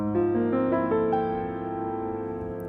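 A chord rings out with notes entering one after another in a quick rolled sequence, then sustaining together and slowly decaying, clear and close with no talk over it.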